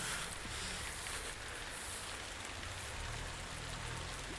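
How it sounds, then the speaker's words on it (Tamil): Rain falls on a fruit orchard, a steady broadband hiss of drops on leaves and ground that holds constant throughout with no one speaking. "இன்றைக்கி பார்த்திங்கன்னா மழை பெஞ்சிக்கிட்டு இருக்குது"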